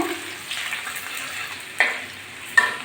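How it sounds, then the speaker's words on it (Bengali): A handful of chopped garlic fries in hot oil with a soft, steady sizzle, broken by two brief scraping stirs of a spoon in the pan, close and without talk. "এক মুঠো রসুন কুচি দিয়ে দিলাম রসুনটা হালকা করে ভেজে নিয়ে"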